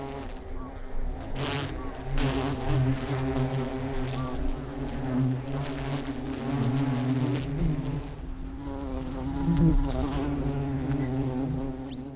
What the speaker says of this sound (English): But there's a freeloader lurking nearby, a cuckoo bee.